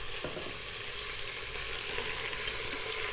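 Mutton chunks fry in a pan for aloo gosht, giving a steady, dense sizzle that holds evenly throughout with no voices.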